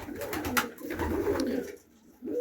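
Domestic pigeons cooing close by, a few soft throaty low coos repeating in uneven bursts with a brief pause near the end, no speech.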